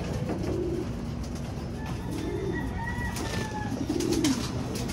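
Pigeons cooing nearby in a pigeon loft, three soft rolling coos spaced a couple of seconds apart over a faint outdoor background.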